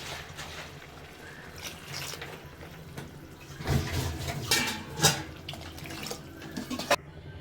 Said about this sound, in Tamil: அதுக்கு வந்து 3 கப்பு தண்ணி வந்து நம்ம சேர்த்துடலாம்.